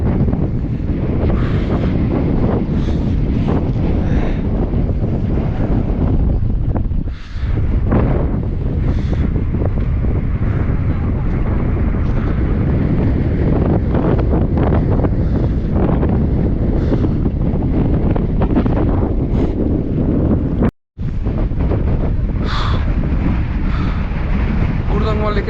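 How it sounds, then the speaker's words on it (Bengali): Strong gusting wind buffets the microphone at high-altitude Gurudongmar Lake in North Sikkim, a continuous loud roar with bursts of flutter, briefly cut by a short dropout near the end, with voices partly heard beneath it. "এখানে প্রচণ্ড বেগে হাওয়া বইছে"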